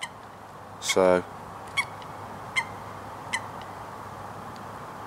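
Coots and seagulls on a lake give one loud honking call followed by a few short, fainter calls across open water, with someone briefly speaking.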